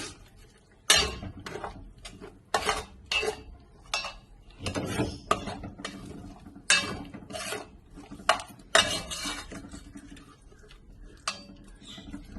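Chicken kurma ingredients are stirred in a pan with a metal spoon, giving a series of loud scraping and clanking strokes in an irregular rhythm, separated by quieter pauses.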